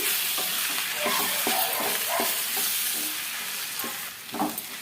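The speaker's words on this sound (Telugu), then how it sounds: "ఉడికించి పెట్టుకున్న పొటాటోస్ వేసేసుకోవాలి వేసుకొని ఒకసారి అంతా కలిపేసుకోవాలి" Boiled potatoes being stirred and mixed in a pan, a soft background sizzle broken by repeated scraping and mashing strokes of a spoon, close up and without talk.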